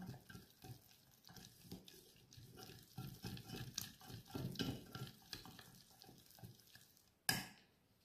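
Butter and flour being worked together with a whisk for béchamel in a pan: soft, continuous rhythmic scraping and swishing at a low level, ending with a sharp metallic clink.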